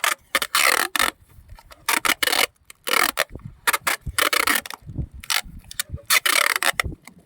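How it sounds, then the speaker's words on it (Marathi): Brown packing tape pulled off the roll and pressed around a fan box for a concrete slab, giving repeated loud ripping and rubbing bursts with short pauses between them, close up and with no talking. "अशा प्रकारे सगळ्या बाजूने फॅन बॉक्सला व्यवस्थितरित्या तुम्ही ब्राऊन टेप मारून घेऊ शकता."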